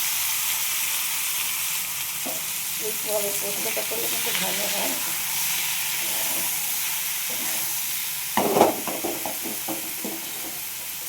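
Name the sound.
ridge gourd frying in a wok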